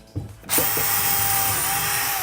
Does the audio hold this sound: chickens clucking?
no